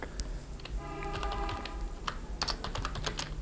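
Computer keyboard typing text, a quick run of close, crisp key clicks in irregular bursts over a faint low background hum.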